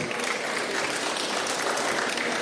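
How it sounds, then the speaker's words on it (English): A festival audience at a Star Wars fan convention panel bursts into loud, dense applause, sustained clapping from a large crowd that holds steady throughout with no speech on top. "Yes, round of applause."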